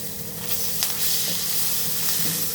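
Crushed ginger, garlic, onion and tomato frying in a pan for a bhendi masala curry, giving a dense, continuous close sizzle with faint occasional scrapes and no voices.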